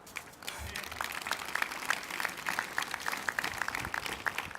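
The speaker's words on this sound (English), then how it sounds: "give a round of applause for yourselves" Graduates applauding themselves at a graduation ceremony, a moderate crowd of separate claps building quickly after a brief pause, somewhat distant and uneven.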